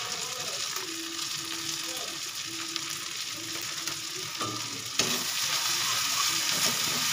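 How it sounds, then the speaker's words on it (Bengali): Spices with ginger paste and cumin powder fry in a pan with a steady, close sizzle throughout, growing slightly louder and brighter near the end; no talking. "সব কিছু এক এক করে মশলা দিচ্ছি আর ভালো করে করে মশলাগুলো ভেজে নিচ্ছি।"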